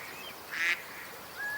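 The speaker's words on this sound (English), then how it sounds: "Those are all ducks calling." Several ducks call outdoors in hunting-season woods, a brief faint quack rising over steady background hiss, with no talking.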